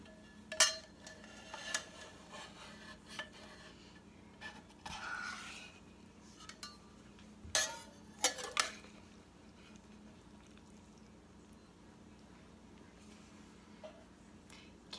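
Meatloaf lifted out of a crockpot, with scattered clinks and scrapes of a utensil against the pot, a few sharp knocks near the start and middle, then quiet low hum.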